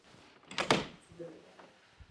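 An attic access door in a house under home inspection is pulled open, giving one brief, broadband scrape and thump near the start, followed by quieter rustling in a fairly hushed room.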